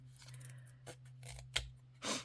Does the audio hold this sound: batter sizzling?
no